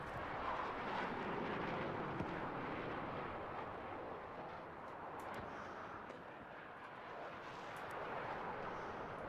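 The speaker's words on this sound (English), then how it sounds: "The jet just buzzed me." A low-flying jet in Battlefield 6 makes a loud, broad roar that sweeps overhead and fades slightly before swelling again, mixed with faint distant gunfire cracks. No talking.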